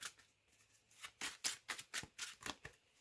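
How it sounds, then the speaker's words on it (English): Magic: The Gathering commander deck being riffle-shuffled by hand, a run of about eight quick, crisp card flutters in close succession, close up and loud, with no talking. "I'm going to go ahead and give this a few more shuffles"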